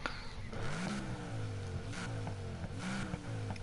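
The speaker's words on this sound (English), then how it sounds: "It sounds really good though. It's a nice V8. Swedish V8." A Swedish hybrid V8 in Need for Speed Heat revs up and down several times, its engine pitch sweeping in repeated rising and falling pulls. The sound is steady and moderately close, with no talk over it.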